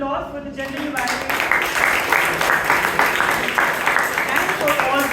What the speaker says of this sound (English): Can we have a big round of applause for the gender evaluation